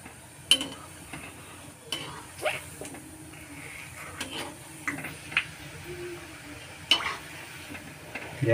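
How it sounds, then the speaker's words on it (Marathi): Biscuit gulab jamun frying in oil on a low flame, with soft, steady sizzling broken by occasional clinks and stirring taps of a utensil against the pan. "मंद गॅसवर तळून घ्यायचं."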